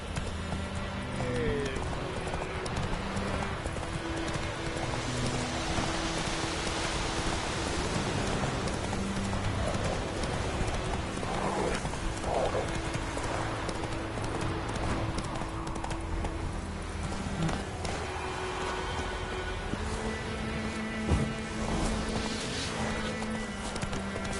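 Hoofbeats of Geralt's horse Roach in the video game The Witcher 3: Wild Hunt, a steady clip-clop of galloping hooves over a constant wash of rain and ambient game noise, with no voices.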